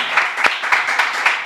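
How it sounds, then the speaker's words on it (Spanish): An audience claps for a guest, a dense patter of hands with a few sharper claps standing out, close and fairly loud, brief and continuous. "Aplausos para Isra."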